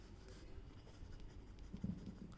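A pen scratches across paper as accounting entries are written out by hand during a class lesson, with soft, quiet strokes and short pauses in a calm room.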